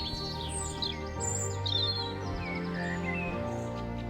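Several birds sing and chirp in an organic meadow among groves and grazing horses, bright warbling phrases over a low steady hum, moderately distant and fairly faint.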